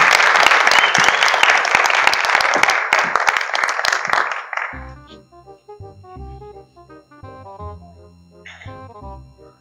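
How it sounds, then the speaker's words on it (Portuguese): Loud audience applause at a stand-up comedy show in Beira, a crowd clapping briskly for several seconds before it fades out and gives way to a short musical sting. "eu gostava que vocês dessem assim uma bela salva de palmas só para ele ganhar mais coragem para vir"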